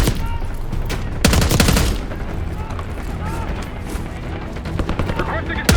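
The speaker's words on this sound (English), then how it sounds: "We're taking heavy fire at the helo." Heavy gunfire in the Call of Duty: Black Ops 6 game during a helicopter battle, dense loud bursts of automatic fire and booming impacts rolling almost continuously, with voices shouting over the combat.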